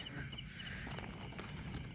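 Night insects chirp in a continuous high, thin trill, steady and fairly faint, with a few brief clicks over a quiet background.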